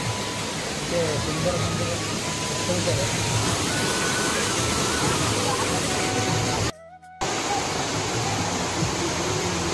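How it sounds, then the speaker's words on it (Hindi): Brahmani waterfall roaring as a dense, loud, unbroken rush of water close by, with a brief dropout near the end. "फाइनाली ब्राह्मणी वाटरफॉल यहाँ देखिए"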